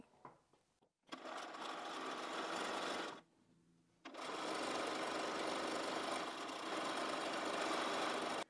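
Bernina sewing machine stitching quilt patchwork strips, a steady fast whirring rattle that runs for a couple of seconds, pauses briefly, then resumes and continues to the end, close and fairly quiet.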